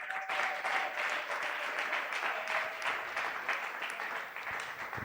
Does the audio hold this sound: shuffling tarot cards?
no